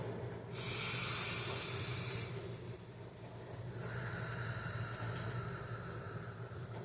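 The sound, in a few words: deep breathing during a pause to self-soothe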